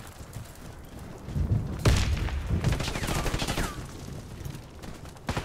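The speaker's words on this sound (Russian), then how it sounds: "Осторожно, граната!" Grenade blast and bursts of gunfire in Warface ranked PvP play, a heavy boom followed by rapid, dense shooting that carries through the clip, with voices calling out faintly underneath.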